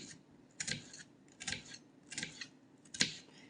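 Four crisp knife strikes dicing garlic on a cutting board, evenly spaced about a second apart, close and fairly quiet with no talking.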